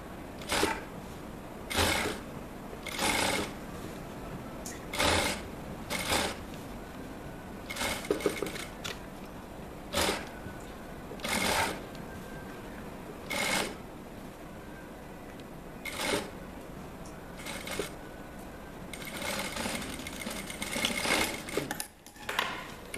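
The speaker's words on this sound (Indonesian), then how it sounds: "ini baru kita jahit" A sewing machine stitches a shirt collar in repeated short bursts of rapid mechanical clatter separated by quieter pauses, close and clear over a faint background hum.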